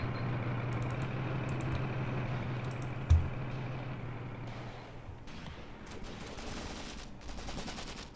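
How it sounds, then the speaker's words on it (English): Distant gunfire in the tank and infantry battle game Graviteam Tactics: Mius Front, with scattered faint shots and one sharp close bang early, over a low engine rumble that fades midway. "See where this gunfire is coming from."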